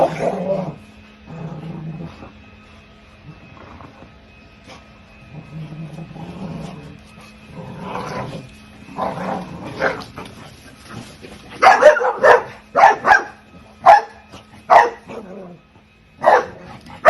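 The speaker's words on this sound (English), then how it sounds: "The barks sounded a bit stressed to me." Dogs barking in a played-back recording, several rough, stressed-sounding barks in irregular bursts that grow louder and denser toward the end, with a steady low hum underneath.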